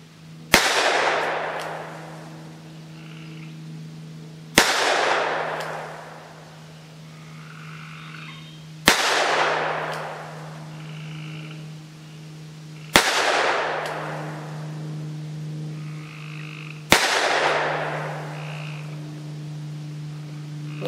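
A Taurus Judge revolver fires .380 ACP through rifled adapters from 10 feet, giving five sharp, loud shots spaced about four seconds apart. Low croaking calls from a creature in nearby trees fill the gaps between shots.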